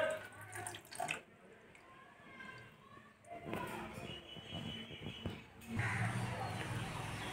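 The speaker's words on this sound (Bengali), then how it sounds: "আমার সোনা পাপাদেরকে একটু দুধ জল দিয়ে স্নান করানো হচ্ছে" Milk and water are poured over deity idols in a home puja ritual on Purnima, making an ongoing splashing flow like a running tap into a basin, with voices talking at times.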